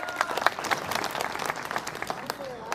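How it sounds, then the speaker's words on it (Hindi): Audience applause at a Hindi poetry gathering, a burst of clapping from the crowd that thins into scattered claps, heard together with a speaking voice. "एक बार जोरदार तालियां बजाइए।"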